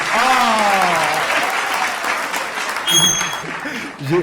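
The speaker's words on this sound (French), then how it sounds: "maximum d'applaudissements pour mon coach" Loud clapping from a comedy club audience mixed with cheering voices and whoops, a whistle rising near the end as the crowd keeps going.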